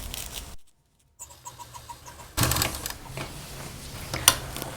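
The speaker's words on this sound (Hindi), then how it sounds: "डबल मशीन चला करके पूरा वेलक्रो को अच्छे से लगा देंगे।" A sewing machine runs in bursts while stitching velcro onto an office bag, rapid mechanical rattling with a short pause, then resuming louder with clicks and a sharp tick near the end.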